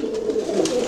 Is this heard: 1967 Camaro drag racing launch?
no